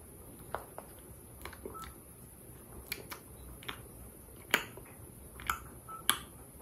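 A farm goose clacks its beak in a quiet barn setting, giving scattered sharp clicks and snaps at irregular intervals, a few louder ones standing out near the end against faint background hiss.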